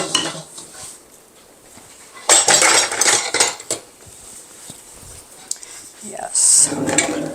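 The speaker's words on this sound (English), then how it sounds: "I'm going to throw these in the sink along with the bowls." Metal utensils and bowls clatter into a kitchen sink in a couple of loud, clanking bursts, with softer handling noises and a person talking in between.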